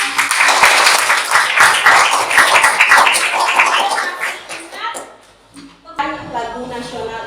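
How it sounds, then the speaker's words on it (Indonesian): A school class clapping hands together in a classroom, a burst of scattered claps that fades, with voices mixed in and then a pause. "tepuk tangan dulu"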